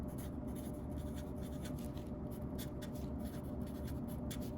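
A marker writing the words "brass fastener" onto a piece of cardboard, with steady, close scratchy strokes that carry on without a break and no voices.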